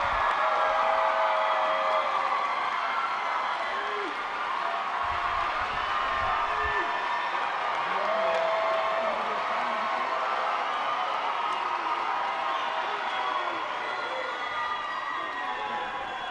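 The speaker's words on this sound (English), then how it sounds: "Let's give these scholars another big round of applause." A large graduation audience at East High School's 2019 ceremony applauds and cheers, with a broad continuous wash of clapping, whoops and crowd noise that stays steady and moderately distant.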